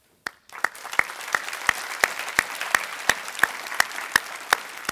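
Banquet audience at an annual meeting and membership dinner applauds volunteers and staff, a steady dense wash of clapping with sharp individual claps standing out at a regular beat, sustained through the clip after a brief quiet start.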